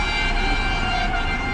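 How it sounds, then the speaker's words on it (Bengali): A train rolling past nearby, its steady, loud rumble and wheel noise filling the whole moment without a break and without voices. "ট্রেন যাচ্ছে।"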